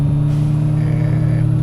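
Isuzu Erga Mio bus engine in OMSI 2, a low steady diesel idle drone with a strong tonal hum, close and continuous with no break.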